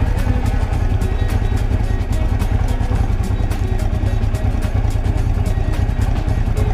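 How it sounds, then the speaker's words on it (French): A Honda Africa Twin RD03 motorcycle with carburettors idles steadily once warm, around 1000 rpm, a close, loud and continuous low engine rumble with fine rhythmic clatter and no speech over it. "quand la moto est chaude, elle peut tourner à 1000 tours minute sans problème"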